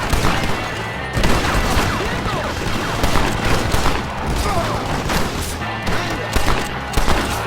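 Rapid bursts of gunfire crackle throughout a shootout at a mansion in the Western video game Red Dead Redemption, dense overlapping shots with booming impacts, loud and continuous.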